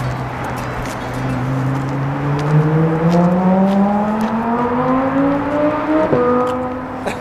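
A Lamborghini Huracan supercar accelerates on a road toward a freeway, its engine note climbing steadily through rising gears with a brief shift near the end, heard loud and continuous from a short distance.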